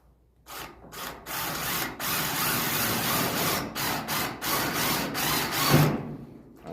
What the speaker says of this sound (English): So I'm going to drill me a hole right here just like this with my screw.